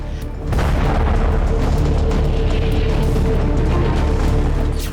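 A huge, deep nuclear bomb explosion boom that swells into a sustained, roaring rumble and holds loud and steady throughout.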